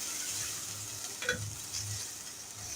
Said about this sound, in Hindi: अब मैं इसमें शामिल कर रही हूँ मैरिनेट की हुई चिकन। ये शामिल करके हम इसे अच्छी तरह से 1 मिनट तक भूनेंगे।